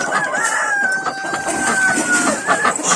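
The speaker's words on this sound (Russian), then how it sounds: "Куры все склюют." Chickens cluck and call close by in a busy farmyard flock pecking at scattered eggshells, with a drawn-out crowing-like call running through the middle.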